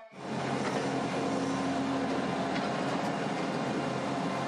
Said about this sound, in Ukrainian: на колію вперше прибуває потяг міжнародного сполучення Варшава-Чернівці